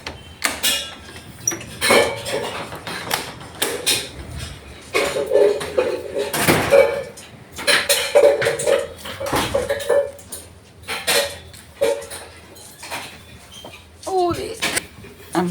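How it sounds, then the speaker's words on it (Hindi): Metal dishes, pots and utensils are scrubbed and washed in a home kitchen, giving repeated clattering and clinking knocks at an irregular pace, heard under someone talking close by. "बर्तन मांज रही है, तो आवाज़ आ रही है थोड़ी बर्तन की।"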